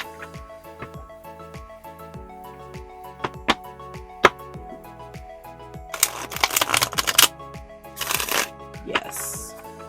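An oracle card deck is shuffled by hand, with crisp riffling clicks and snaps that build into dense rapid flutters in several bursts, close and clear with no talking.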